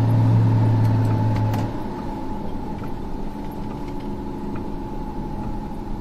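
A car cruising along the Hanshin Expressway Bayshore Route toward Kansai Airport, giving a steady, close engine and road drone with a louder low hum fading out early, then a constant rumble with no talk.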